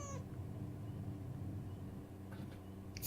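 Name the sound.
cat meowing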